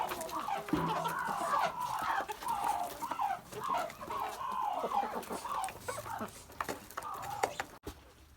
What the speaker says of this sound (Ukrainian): Ось ця чорна курочка.